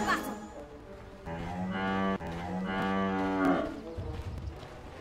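A cow moos in Dota 2 during a professional match between VG and CDEC, one long drawn-out low bellow lasting a few seconds, loud and close, with faint background noise.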